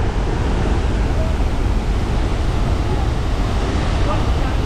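Steady, dense rushing of falling water fills the whole clip, loud and close like spray from Athirappilly Waterfalls, with no pauses.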